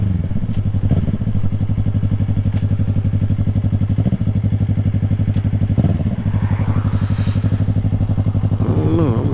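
A 2020 Yamaha R3 motorcycle engine runs loud and close while riding, a continuous buzzing thrum with slight rises and dips in pitch and occasional wind and rattle noise over it, with no speech.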